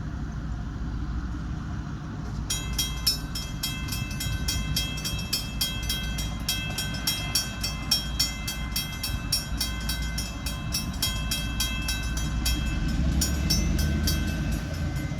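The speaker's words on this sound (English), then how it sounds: "Here we are waiting on the FloridaMidland Railroad." A Florida Midland Railroad train rolls past close by, its wheels clattering over rail joints in a steady rhythmic beat for most of the stretch beneath a constant low rumble, with no voices.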